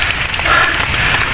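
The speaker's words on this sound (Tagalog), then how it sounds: "dahil umuulan na" Rain falls outdoors as a loud, dense, even hiss of drops with no talking.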